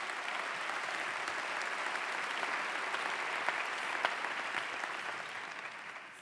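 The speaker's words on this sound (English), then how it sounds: "That you can applaud for." At the 2009 George Mason High School commencement, an audience breaks into sustained applause, a thick, even roar of clapping that holds steady for about six seconds before tapering slightly at the end.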